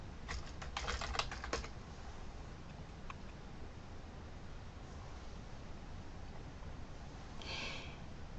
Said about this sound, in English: I need to type in my BuzzIn username and password.